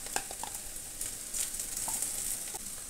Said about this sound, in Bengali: কুচানো পেঁয়াজগুলোকে খানিকক্ষণ তেলের মধ্যে নাড়িয়ে নরম করে ভেজে নিতে হবে।